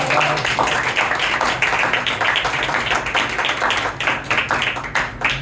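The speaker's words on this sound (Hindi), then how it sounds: "तालियां बजाओ सारी बात की बात।" A church congregation at an Easter service claps together, a dense and steady patter of many hands that keeps going for several seconds without a break.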